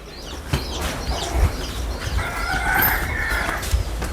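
Chickens clucking nearby, with short chirpy calls and a brief higher crow-like call in the middle over a steady outdoor background.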